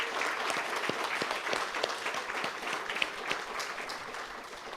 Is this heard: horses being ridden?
no